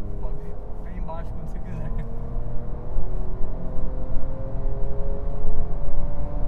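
A Ford Ranger Raptor pickup accelerates on an on-road track, its engine drone heard from inside the cab and rising steadily in pitch and loudness, with occasional voices on top.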